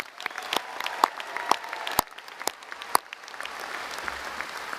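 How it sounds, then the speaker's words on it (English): Audience at a National University commencement ceremony applauding the graduates, scattered, fairly sparse claps with a few sharp distinct hand claps, heard at a distance in a large hall and tapering off at the end. "Let's give them another big round of applause."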